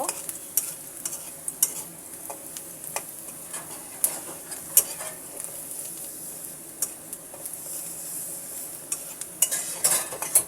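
Onion and garlic sizzle and fry in a pan, with frequent clinks and scrapes of a stirring spatula against the metal, close and steady with no talking.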